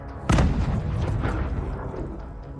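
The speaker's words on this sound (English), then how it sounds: "when a 40-ton armored vehicle rolls right over one, the explosion is so massive" A landmine blasts beneath a 40-ton Russian tank, a sudden heavy boom followed by a long rumbling roll that slowly fades, loud and close.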